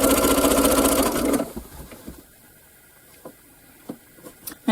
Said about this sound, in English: I'll just stitch this on and then flip it over and machine stitch it down on the front